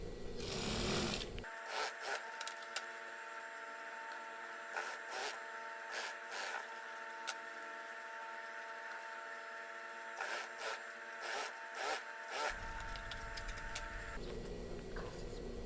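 Sewing machine stitching the armhole lining of a batik shirt, running in short rhythmic bursts with pauses between them, fairly near and moderately loud, with a steady electric hum underneath.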